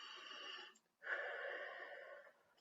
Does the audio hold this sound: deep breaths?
yes